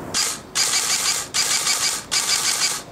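GFC HK416 airsoft replica firing rapid semi-auto shots, four sharp mechanical bursts in quick, fairly even succession, loud and close with brief gaps between them and no talk.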